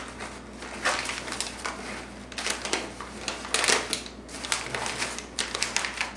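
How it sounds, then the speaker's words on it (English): Paper crinkled and crunched down by hand while shaping a decorative tea hat, a close, steady stream of crackling rustles with brief louder bursts, heard alone without talk. "You're going to have to probably crunch the paper down."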